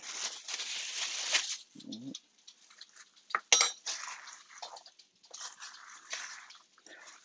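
Young pork intestines seasoned with salt and pepper are tossed in a bowl, giving close, irregular clinks of a utensil against the dish and soft wet squelches between short pauses.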